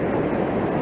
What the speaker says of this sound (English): This is the sound of a waterfall, a tremendous, angry, enormously powerful waterfall called the Ebener Falls